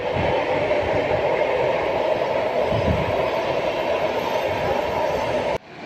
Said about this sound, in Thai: เสียงรถไฟเด้อจ้ะ